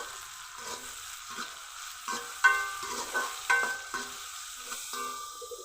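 Chopped carrot, tomato and green chili fry in a pan, close and fairly loud, with a steady sizzle and repeated scraping and clinking stirs of the spatula.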